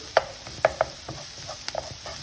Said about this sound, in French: Donc ici j'essaie de mijoter correctement pour que l'ail ne crame pas parce que l'ail ça crame rapidement